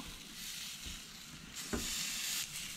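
Duck with its skin on sizzles steadily on a grill just after being flipped. The hiss is soft and continuous, with a few brief pops and crackles.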